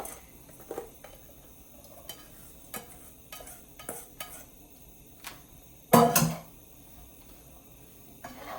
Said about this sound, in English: do your usual sautés until the veggies are sort of semi-transparent